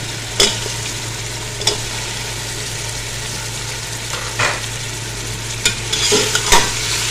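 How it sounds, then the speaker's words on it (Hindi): Mutton stirred and frying with ginger and garlic in a pan, a steady sizzle under a low hum, with scraping stirs recurring every second or two; nobody speaks. "हम इसमें डाल देंगे गोश्त, क्योंकि गोश्त को हमने अदरक लहसुन के साथ भूनना है"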